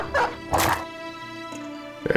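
In Battle Brothers, a war dog lets out a couple of sharp, close barks between game combat thuds, ending in a quick burst of yips.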